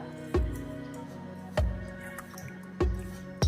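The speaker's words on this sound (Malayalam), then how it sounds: "ഇതെല്ലാം കൂടെ നല്ലപോലെ ഒന്ന് മിക്സ് ചെയ്യാം" Murukku dough ingredients, flour with a little salt, being mixed together by hand in a bowl, giving three soft, evenly spaced squishy thumps over a quiet background.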